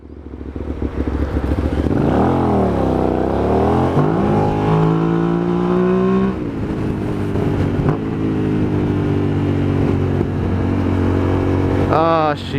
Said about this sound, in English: I keep getting distracted by my exhaust